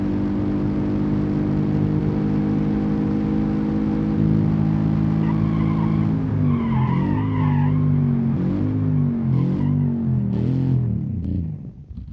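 A car in a racing video game, its engine droning steadily and then shifting through rising and falling revs while the tires squeal and skid loudly, before the noise drops away at the end.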